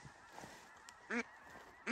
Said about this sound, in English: lots of ducks. Get ready on this flock out front